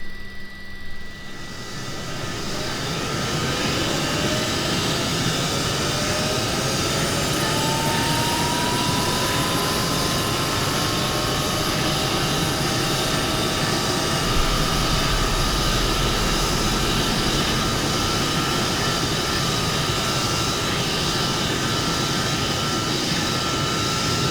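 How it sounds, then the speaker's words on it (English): Rolls-Royce Olympus jet engines on an Avro Vulcan spooling up, a broad roaring rush with rising whining tones that climb and settle into a loud, steady scream, heard from outside the aircraft. "We'll head outside for engines number 3 and 4 just to hear those lovely Olympus engines spooling up."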